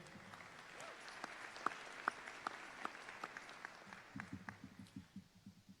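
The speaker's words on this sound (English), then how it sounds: "class of 2026, give yourselves a round of applause" Scattered clapping from a graduating high school class at the Francis Scott Key High School 2026 ceremony, faint and distant with distinct individual claps over a soft crowd murmur.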